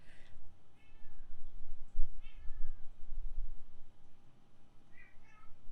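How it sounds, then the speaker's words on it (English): A pet cat meowing loudly and insistently indoors, several drawn-out yowling cries spaced out across the moment, close by over quiet room noise. "I wonder if you can hear my cat screaming."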